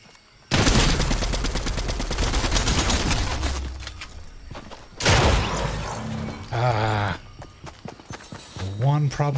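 Video game gunfire: a loud rattling burst of shots with a long decay, then a second blast, followed by someone talking over the fading noise.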